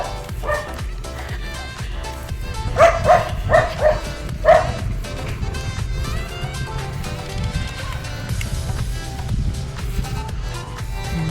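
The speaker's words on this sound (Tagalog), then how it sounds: "Ay, ang aso nila, tahol ng tahol." A neighbour's dog barks repeatedly near a subdivision street on a morning walk, a run of loud, closely spaced yips and woofs at moderate distance, mixed with footsteps and outdoor background noise.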